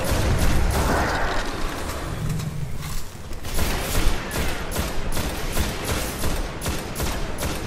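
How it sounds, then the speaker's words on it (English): A grenade blast in the Destiny beta on Xbox One, heard as a dense run of loud bursts and crackling gunfire, with a brief dip near three seconds before the chaotic explosive din swells back up. "Have a grenade on your face."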